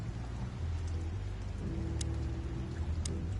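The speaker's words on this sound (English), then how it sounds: "Well, it is raining." Steady rain falls throughout a scene in the video game Chicken Police, a continuous dense hiss with faint droplet ticks and a low rumble underneath, no voices present.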